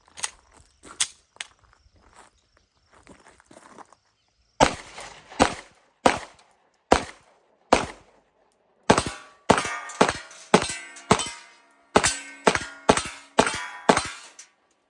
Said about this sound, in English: I want to just give you guys my first impressions of firing this.